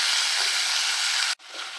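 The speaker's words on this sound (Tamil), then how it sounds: "தக்காளி கொஞ்சம் வதங்கட்டும்." Tomatoes sautéing in a pan for vegetable kurma give a steady, loud hiss of frying that cuts off briefly near the end, then returns slightly softer.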